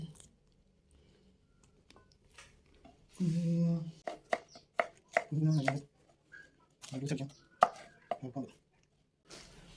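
A knife chops pineapple into small pieces, sharp irregular taps against a board, interspersed with a person talking nearby.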